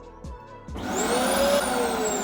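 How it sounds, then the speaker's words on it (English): A vacuum cleaner (hoover) switches on and sucks dirt from around the spark plug wells of a Suzuki Hayabusa motorcycle engine, starting after a couple of soft clunks and then roaring steadily, loud and close. "I'm going to chuck the hoover in, hopefully get out any more dirt that is in there"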